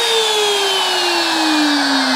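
A sawmill blade winding down to a stop, a loud, steady whine that glides slowly lower in pitch as it decelerates, heard alone and close.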